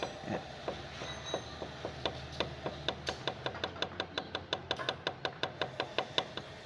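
Sharp hand knocks on a motorcycle engine part, a steady run of evenly spaced taps that quickens and grows more regular toward the end, close and clear with a low hum beneath.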